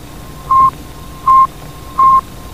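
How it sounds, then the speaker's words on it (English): Three evenly spaced, clean electronic beeps come from the radio signal of the Soviet satellite Sputnik, broadcast in 1957. Each is short and loud over a faint steady hiss, with brief gaps between them. "That sound was broadcasted by the Soviet satellite Sputnik in 1957."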